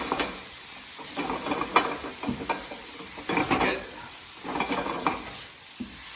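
Pasta tossed and stirred in a hot pan gives repeated bursts of sizzling and scraping, a rhythmic series of clattering swishes over a low frying hiss, close and moderately loud.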